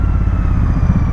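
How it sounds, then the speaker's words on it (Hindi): Royal Enfield GT650 motorcycle engine running steadily while being ridden, a close, continuous low rumble with a slightly clattery texture and no voices. "बाइक चलाने लायक हूँ, तो मैं चला रहा हूँ"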